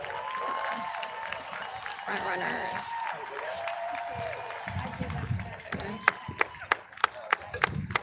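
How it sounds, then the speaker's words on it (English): Crowd near City Hall at the Philadelphia Broad Street Run 10-miler cheers and claps for passing runners, with a soft steady murmur, then a run of sharp, separate claps near the end; a person talks close by. "So more crowds down here by City Hall."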